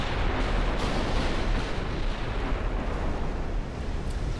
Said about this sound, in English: Xusheng takes a massive hit